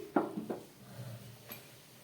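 Rice and vegetables are stirred and sautéed with a little ghee in a pot, giving two soft knocks of a spoon against the pot and a faint scrape, all at low volume.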